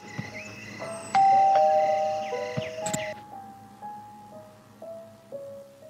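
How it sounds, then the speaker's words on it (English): A synthetic electronic doorbell in a video game chimes a short ding-dong melody, followed by descending tones fading out over soft ambient background noise. "Oh, the doorbell."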